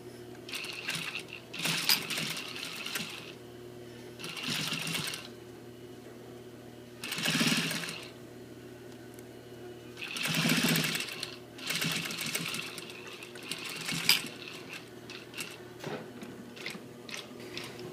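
A sewing machine stitching a front zipper fly runs in several bursts of rapid mechanical whirring, separated by short pauses with quieter handling clicks, close and clear, with no talking.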